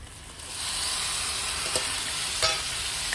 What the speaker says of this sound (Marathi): आता घेवडा हा छान परतून घेऊया